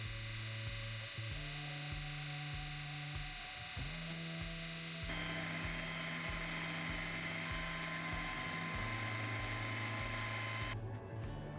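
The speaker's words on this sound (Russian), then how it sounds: "Сверлю отверстие для осей пина и обтачиваю внешние контуры." A titanium lock for a bearing-pivot butterfly knife is drilled for its pin holes and ground to shape, a steady high machine whine broken by repeated short cuts and pauses, close and loud with no talking.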